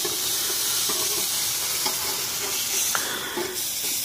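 A burger patty sizzles steadily in a frying pan after being flipped, a continuous close hiss of frying fat with a few soft clicks and scrapes from the utensil, and no voices.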